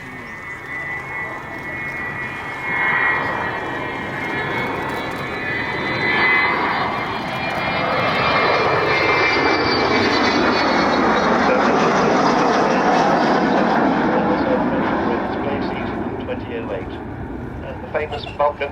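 Avro Vulcan XH558 delta-wing jet bomber flying at the 2012 Duxford airshow, a loud sustained roar with a rising howl that swells overhead and fades, continuous for the whole span with speech in the background.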